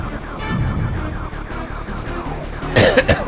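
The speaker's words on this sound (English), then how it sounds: "I was just coughing and stuff just to clear my throat" A few rough coughs burst out near the end, loud and close, over a steady bed of background music.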